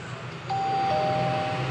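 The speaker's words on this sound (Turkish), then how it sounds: "Zili çalalım." A two-tone electronic doorbell chimes once, clear and sustained, over a steady low background rumble, in Minecraft.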